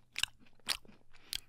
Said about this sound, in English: chewing.